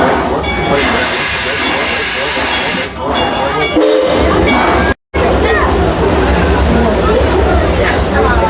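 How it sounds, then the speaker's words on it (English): The green steam-style train on the Six Flags Over Texas railroad hisses and rumbles loudly nearby in a continuous wash of noise with a whistle-like tone, while voices talk over it. "wait for that whistle"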